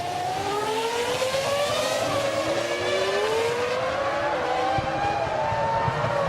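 Formula 1 race cars in the 2005 season, Jarno Trulli passing Rubens Barrichello's Ferrari, engines screaming with rising and falling high-pitched whines that sweep past continuously at close range, no voices.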